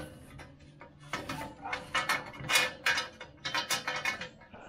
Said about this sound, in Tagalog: smooth na itulak yung gate natin dito sa baba at sa taas